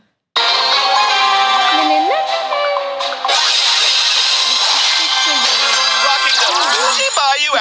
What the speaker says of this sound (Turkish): Kısacağım şimdi telefon sesini.